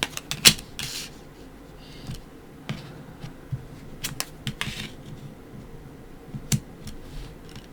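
Tarot cards being unwrapped and handled: quiet rustles, soft slaps and crisp ticks of card stock scattered irregularly, with a couple of sharper snaps, close and faint, no talking.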